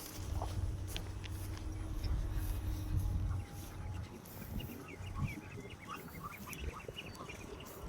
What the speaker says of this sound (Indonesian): Masuk dari kandang bebek.